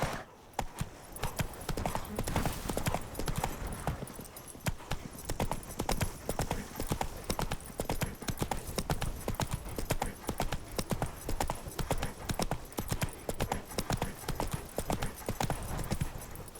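Roach the horse gallops in The Witcher 3, hooves clip-clopping in a fast, steady rhythm that holds for the whole stretch, close and loud, with faint game ambience behind.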